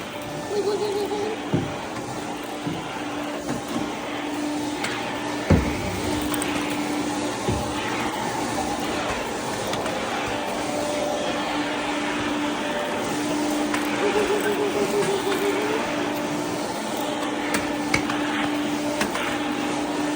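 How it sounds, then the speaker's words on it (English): A carpet-cleaning vacuum hums steadily close by, its motor droning with occasional knocks and bumps as it moves over the carpet. "Getting ourselves a nice thorough vacuum, okay?"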